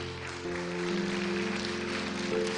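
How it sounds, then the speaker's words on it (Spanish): A church congregation applauds during a Spanish-language sermon, a dense steady wash of clapping over sustained keyboard-like tones that swell partway through. "Dele un aplauso al Señor Jesús."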